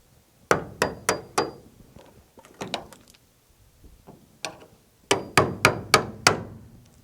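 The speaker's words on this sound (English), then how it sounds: "I'm gonna get a chisel or a screwdriver and stick it underneath there and see if a big old chunk comes off." A hammer drives a chisel or screwdriver under the metal of a GTO being prepped for acid dipping, sharp metallic strikes in quick bursts of four to six blows with short pauses between.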